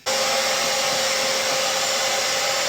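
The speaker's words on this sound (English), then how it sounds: "Diffuser is Conair Infinity Pro." A Conair Infinity Pro hair dryer fitted with a diffuser runs in a steady, close, unbroken whoosh of blowing air and motor hum, switching on and off cleanly with no voices.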